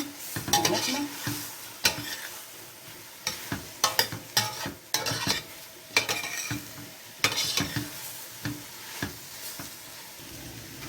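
Meat, onions and garlic frying in a pot while being stirred, with a spoon scraping and clinking against the metal in irregular bursts over a low, steady sizzle, heard up close without speech.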